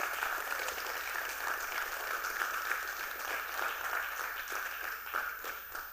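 Audience applause at a youth town hall, a steady wash of many hands clapping together for about six seconds, sustained and fairly even with no talk over it.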